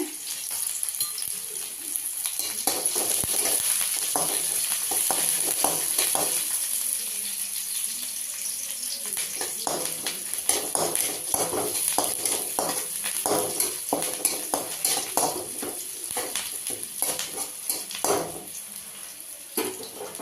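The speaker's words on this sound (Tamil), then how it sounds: "கடுகு பொரிஞ்சிருச்சு. வெங்காயம் போட்டுடலாம். கருவேப்பிலை, வரமிளகா. வெங்காயம் கொஞ்சம் வதங்கிட்டுங்க." Onions frying in a pan with popped mustard seeds, curry leaves and dried red chillies for a Tamil home dish, a steady close sizzle with intermittent stirring scrapes and utensil clinks throughout, no talk.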